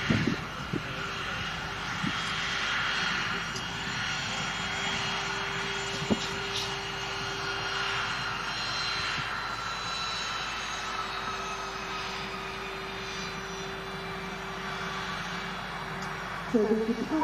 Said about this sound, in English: we finally see the arrival of Emirates Flight 17 coming into Manchester Airport from Dubai to Vienna to Manchester